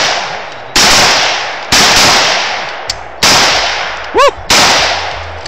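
Outdoor gunfire: four sharp, loud shots spaced about a second apart, each followed by a ringing echo tail. A voice whoops once between them.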